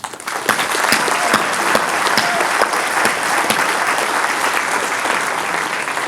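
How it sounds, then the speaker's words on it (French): Sustained audience applause at a mayor's New Year address in Uckange, dense steady clapping from a large crowd with no talk, holding an even loudness throughout. "on peut les applaudir"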